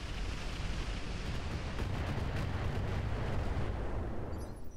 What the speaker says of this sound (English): Here comes the incendiary.